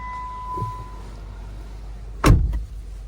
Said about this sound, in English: So clutch in, fires right up.